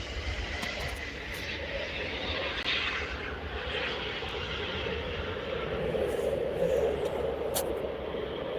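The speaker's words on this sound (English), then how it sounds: "This is an E190 landing." A Scandinavian Embraer E190 airliner lands at Oslo airport, its engines a steady, broad roar at moderate distance that swells slightly toward the end, with no talk.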